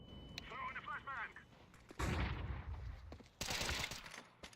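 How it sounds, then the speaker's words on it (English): A flashbang grenade is thrown in Counter-Strike 2, heard as two loud bursts of blast noise against quieter game sounds, following a short electronic chirp at the start. "Throwing a flashbang."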